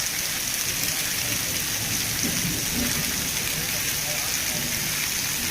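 Dense, steady rain with hail pours down in a loud, continuous hiss with scattered harder impacts, all close by and unbroken, in Liliya, Gujarat.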